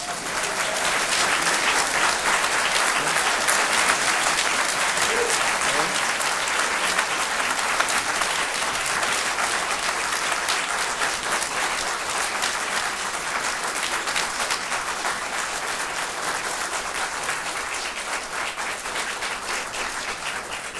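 Sustained, loud audience applause fills a commission hearing room, dense steady clapping from a crowd holding at an even level for about twenty seconds without a break.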